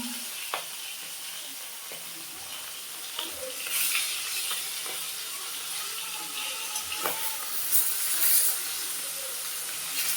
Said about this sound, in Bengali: এই যে ইলিশ মাছটা দিয়ে দিলাম হালকা করে ভেজে নেব